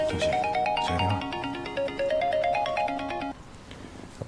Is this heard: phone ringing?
yes